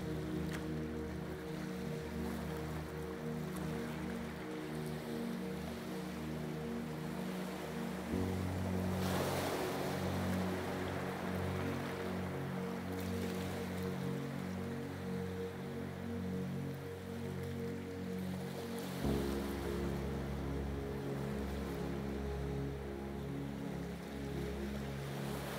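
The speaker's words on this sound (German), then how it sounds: "Ganz im Einklang mit dem leisen Rauschen der Wellen." Gentle ocean waves roll and wash continuously, a soft steady surf with a low rumble like a ship at sea, with no voices over it.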